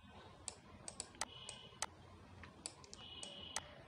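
Quiet, close typing on a computer keyboard, with sparse individual keystroke clicks spaced irregularly as component names are entered in a circuit simulator, over faint room noise.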